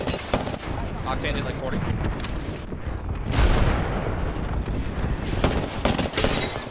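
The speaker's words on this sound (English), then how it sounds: "There's an airstrike." An airstrike in an Apex Legends-style shooter, with loud continuous explosions and gunfire rumbling together, dense and close, while players talk over the din.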